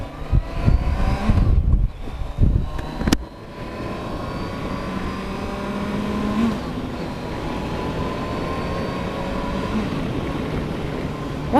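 A 2019 Kawasaki Versys 1000 SE LT+ motorcycle rides off out of a parking lot. Its engine gives a bursty rev at first, then settles into a smooth, steady drone that carries on alone at close range.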